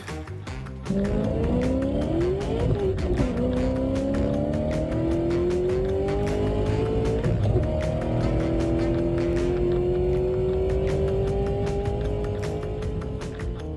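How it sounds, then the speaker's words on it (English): American muscle cars racing in a quarter-final heat, engines revving and rising in pitch through gear changes with repeated upward sweeps, loud and continuous for the whole stretch, with no speech. "Bob out front, way out front of Ray coming down through here"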